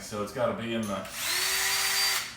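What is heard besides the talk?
electric drill spinning at its highest speed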